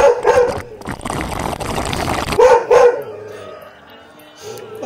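A dog barks and yips loudly at close range in a few quick bursts during a home drinking scene. The barking is mixed with some background noise.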